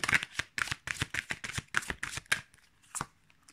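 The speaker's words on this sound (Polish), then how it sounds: "a ja już losuję dla was karty z odpowiedziami" Answer cards are shuffled by hand and drawn, a quick run of soft, papery riffles and taps close to the microphone that slows near the end.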